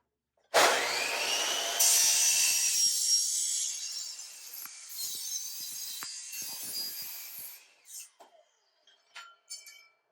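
A power saw cuts through a wooden mast to take a 1.5 inch filler piece, starting abruptly with a loud steady whine and buzz that dips in pitch under load, then stops, followed by a few light knocks and handling clicks.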